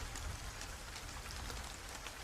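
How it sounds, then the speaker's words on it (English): Steady rain falls on a surface outside during a night storm, a soft, even hiss of many drops with no voices, holding at an unchanging level throughout. "letting the sound of the rain fill the room"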